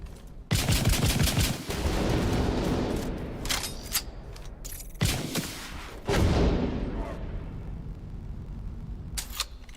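Mini rockets fire in quick bursts during a video game firefight, sharp cracking volleys near and loud, trailing off with a few scattered shots.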